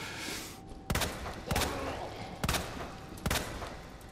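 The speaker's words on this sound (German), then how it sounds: "Schieß einfach meine gesamte Munition auf den." Four sharp, loud gunshots from a handgun fired at zombies in Resident Evil 2 Remake, spaced irregularly about a second apart over a low ambient background, with players talking between shots.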